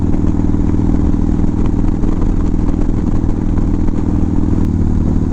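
A bobber motorcycle's engine runs loud and close, a steady rumbling chug with light mechanical clatter throughout and no talking.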